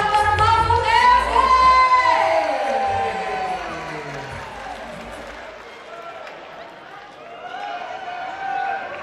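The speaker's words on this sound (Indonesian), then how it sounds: "Kita berikan tepuk tangan untuk Profesor Dr. Mahfud MD." An Indonesian event crowd applauds and cheers to welcome Professor Mahfud MD, the 2024 vice-presidential candidate, in a dense, loud roar beneath a raised amplified voice that fades slightly before rising again.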